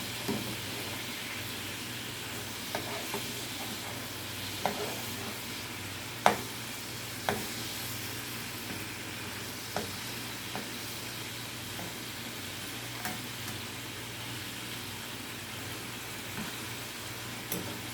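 Chicken quesadillas browning in a lightly oiled pan give a steady soft sizzle, with occasional clicks and taps from a utensil touching the pan.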